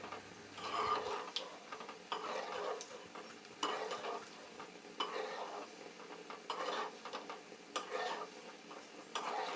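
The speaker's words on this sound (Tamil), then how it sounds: "பொன்னிறமாக வறுத்து எடுத்துக்குவோம்." Heart-shaped gulab jamun frying golden in oil over medium heat, a soft bubbling sizzle broken by repeated utensil taps and scrapes against the pan.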